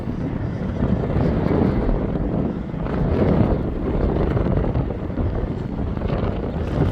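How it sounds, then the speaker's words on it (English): Strong storm wind buffets the microphone in a continuous, loud rumbling roar with gusty surges and no voices. "That wind is still blowing pretty good."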